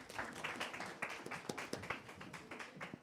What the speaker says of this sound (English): How about a big round of applause right now for Ryan Shimabuku?